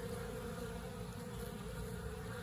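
Bees swarm at a well-established hive being dug out from under an olive tree during a bee removal in southern Arizona, a dense, steady buzzing that fills the air up close with no voices.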